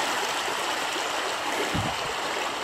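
A river in wild nature flows with a steady, broad rushing wash of water, close and continuous, with a brief low thump partway through.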